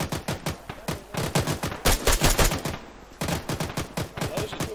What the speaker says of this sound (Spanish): Eso que escuchas son tiros de verdad